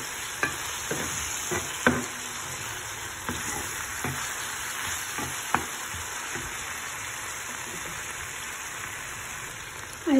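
A masala of turmeric, chili powder and coriander powder is mixed in a pan while fish fries. Constant frying hiss runs underneath, with scattered spoon scrapes and taps against the pan.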